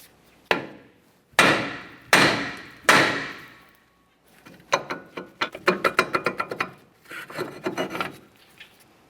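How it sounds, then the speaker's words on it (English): A hammer strikes the rear brake rotor of a 2010-2013 Kia Forte Koup to free it from the wheel bearing: four loud, separate blows, then a quicker run of lighter metallic taps and scraping, all close with no talk. "we need to tap on the brake rotor, separating it from the wheel bearing located behind it."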